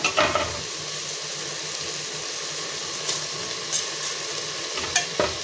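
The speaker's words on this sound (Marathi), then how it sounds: "एक 5 मिनिटं आपल्याला असं मीडियम फ्लेमवरती ठेवून ते छान परतून घ्यायचं आहे।" Rice sautéing in a pan on a medium flame while making khichdi, a steady soft sizzle with a few scraping stirs of the spoon standing out near the start and end, close and fairly quiet with no talking.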